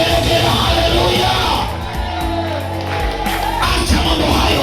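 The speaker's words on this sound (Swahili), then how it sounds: "Mpe Bwana makofi yako juu na vigelegele" A church congregation claps and ululates in praise. The shrill trills and yells are loud and continuous, rising over a busy background with a brief dip midway before the noise swells again.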